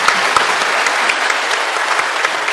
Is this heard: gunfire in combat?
no